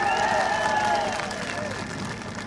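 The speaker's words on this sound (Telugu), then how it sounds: "చప్పట్లు కూడా చెప్పండి తీసేయాలంటే" A large outdoor crowd claps and cheers at a political rally in Kuppam, a broad roar of applause with shouting voices that gradually fades over a couple of seconds.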